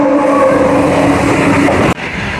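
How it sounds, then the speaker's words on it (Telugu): Sapthagiri Superfast Express train pulling into Ambattur railway station, a steady loud rumble of wheels and engine with a low drone, cutting off abruptly near the end. "ట్రైన్ అయితే వచ్చేస్తున్నాడు"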